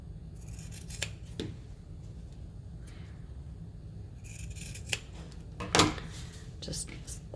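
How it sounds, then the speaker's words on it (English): Scissors snip the corners of a soft minky baby blanket in a series of close, crisp cuts, scattered irregularly with a louder cluster near the end and a quiet low hum beneath. "we're going to trim the corners just so they lay nice and flat"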